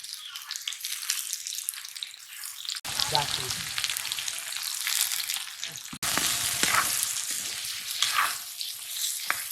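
Potatoes frying in a pan in a village kitchen, a loud, dense crackling sizzle that swells after a stir, with scraping and clattering of the spoon throughout.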